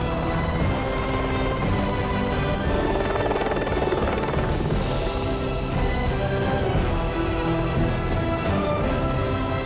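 A helicopter's steady, loud rotor drone and engine whine fill the whole stretch, close and continuous with no talking.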